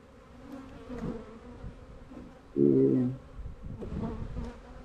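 Low, steady buzzing of many honeybees in a hive throughout, with a louder, droning swell of wingbeats midway before the hum settles back.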